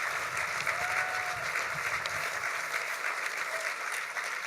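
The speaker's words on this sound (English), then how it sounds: "Let's give them a round of applause." An audience claps steadily through an award luncheon, a sustained round of applause that fills the room at an even level with no voices over it.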